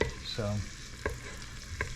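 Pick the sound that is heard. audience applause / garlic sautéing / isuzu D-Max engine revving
garlic sautéing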